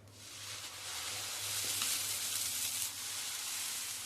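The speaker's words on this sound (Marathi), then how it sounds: "आता आपण डोसा घालतोय." Dosa batter for a thick, soft butter sponge dosa poured onto a hot oiled pan, giving a steady broadband sizzle with a low hum beneath, swelling slightly midway and holding throughout.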